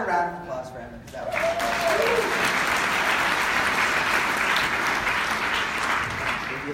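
Audience applause at a book marketing talk, rising after a brief voice at the start into dense, steady clapping that stays loud and close to the end.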